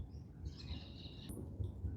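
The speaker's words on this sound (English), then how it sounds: "A bird has decided to come really close to me" A bird's high chirps and calls ring out close by over a steady low rumble of background noise, with no one speaking.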